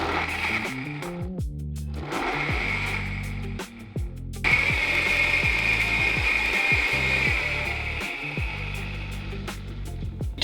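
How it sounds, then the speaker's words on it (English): An electric blender whirring through a liquid mix of mustard, soy sauce and oil for vegan steak, with a steady, loud motor drone that briefly dips and then surges again, heard close with no talking. "I'm just gonna blend that up and then mix together the dry ingredients."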